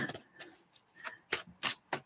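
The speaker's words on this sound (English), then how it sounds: "given another shuffle because we've got the same cards as Craig there." Tarot cards shuffled by hand during a reading, a series of quiet, crisp riffling bursts, about five short rustles spaced unevenly, close and soft with no talk.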